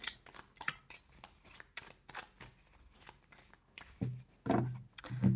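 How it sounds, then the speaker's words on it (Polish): Tarot cards being shuffled and drawn, a run of quick soft flicks and rustles close by, ending in heavier handling sounds and slaps, no voices. "to ja szybciutko tutaj ciągnę trzy karty na pracę"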